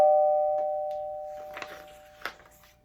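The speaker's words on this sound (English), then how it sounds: "as the doorbell rang" A doorbell rings with steady, sustained chime tones that hold through the clip, alongside a few soft clicks and rustles in the background.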